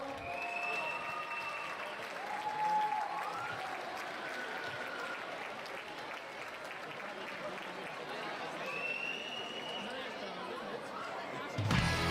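Applause from a crowd at a cosplay contest award ceremony rolls on steadily for about twelve seconds, moderately loud, with cheering, whistles and chatter woven through it.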